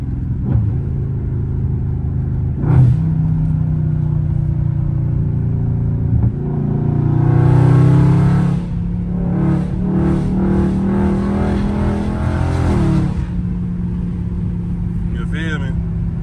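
A catless Dodge Challenger Scat Pack V8 revs repeatedly, a loud rumbling idle rising into throttle blips and sustained revs, with someone talking over the engine.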